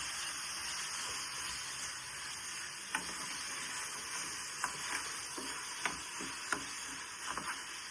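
Pumpkin curry with jaggery being stirred in a pan gives a soft, steady sizzle with occasional light scrapes and taps of the spoon, quiet and without speech.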